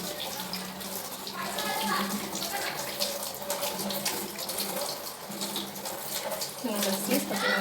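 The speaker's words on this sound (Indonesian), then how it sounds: "Kemudian kita siram." Water runs steadily from a tap or is poured to rinse hands during a handwashing demonstration, a continuous close splashing and trickling that lasts throughout.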